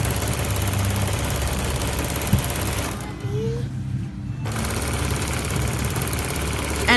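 Sewing machine stitching fabric while quilting, a steady mechanical hum and rapid needle clatter running throughout, briefly dropping off in the middle before resuming, with a voice talking over it.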